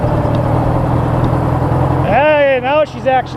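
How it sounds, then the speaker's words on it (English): A Suzuki bobber motorcycle engine idles with a steady, close, low rumble for about two seconds before a voice comes in over it. "She's actually idling properly."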